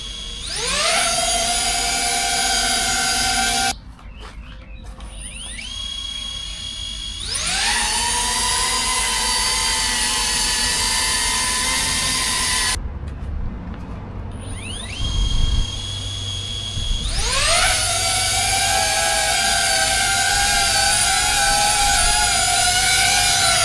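A DJI Avata 2 drone fitted with stock, Master Airscrew or HQ props gives a high, whining buzz in three long passes, with short gaps between them as it spools up and holds its pitch.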